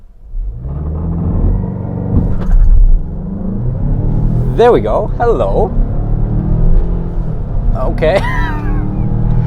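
A 2022 Mazda CX-5 Signature in sport mode on icy, sub-freezing roads, its engine giving a steady loud rumble through a brake-torque launch and pull, while someone talks briefly over it.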